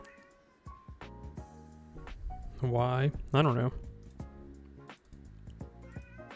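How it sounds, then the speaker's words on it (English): A house cat lets out a drawn-out, wavering meow-like vocal sound, twice in close succession, loud and near, with a person talking before and after it. "The cat's just making a funny sound."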